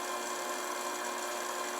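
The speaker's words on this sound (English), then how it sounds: "You're actually going to drill a hole just off to the side here" A drill boring a hole off-center in a clay pot lid, a steady high-pitched whirring drone that holds constant and close throughout, with no speech.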